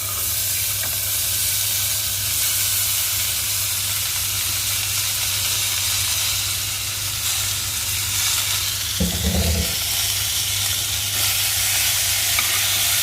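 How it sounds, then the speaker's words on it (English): Corn fries in a pan for a crispy rosti, giving a loud, steady sizzling hiss over a low hum, with a brief louder scraping burst partway through and no talking. "And then you have all this corn, just put it in and give a good chop."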